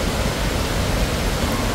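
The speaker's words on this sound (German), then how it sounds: "So, jetzt haben wir uns den Wasserfall hier angesehen." A waterfall in Chiang Mai roars as a loud, dense, continuous rush of falling water, steady and close with no breaks.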